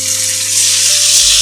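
Curry leaves frying in hot oil on a tawa, a steady loud sizzle close by with a constant low hum beneath, no talking.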